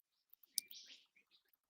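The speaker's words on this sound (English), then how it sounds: "It sounds so nice in Australia right now. Birds singing." Birds singing outdoors in Australia, a few faint scattered chirps and one brief clearer whistled phrase, thin and distant, with no voices over them.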